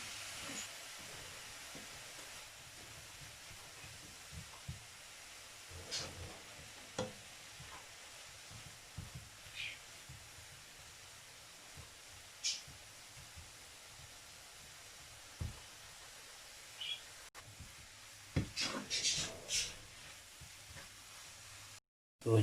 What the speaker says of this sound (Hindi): अब हम तकरीबन 5 मिनट तक इसी तरह इसको मीडियम आग के ऊपर जो है वो पकाएंगे